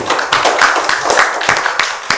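An audience at an ESG forum presentation breaks into clapping, a steady, dense patter of many hands that continues for about two seconds.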